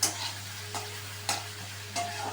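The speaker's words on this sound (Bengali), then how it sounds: "পেঁয়াজগুলো দিয়ে আমি একটু এদিক সেদিক একটু ভালো করে আমি ভাজা করে নেবো" Onions frying in oil in a pan give a faint continuous sizzle, with three distinct scraping strokes of a spatula stirring at regular intervals over a low hum.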